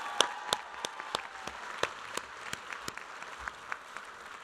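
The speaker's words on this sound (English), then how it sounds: "give him a round of applause" Scattered claps from a commencement ceremony audience sound fairly faint and distant, irregular individual hand claps over a low murmur of room noise.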